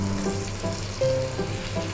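Chopped tomato hits a pan of fried spices with cumin powder, giving a close, steady sizzle that swells briefly as it settles, with no voices.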